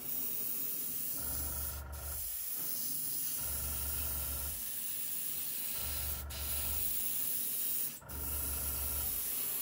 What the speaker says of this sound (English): I'm just going to spray the inside of the track.